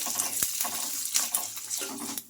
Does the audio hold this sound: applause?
no